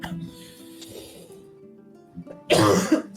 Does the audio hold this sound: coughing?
yes